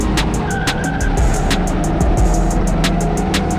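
Racing kart engines at a kart circuit in Bordeaux Lac, a loud continuous high-revving whine from nearby karts packed close together mid-race, with sharp repeated clicks throughout.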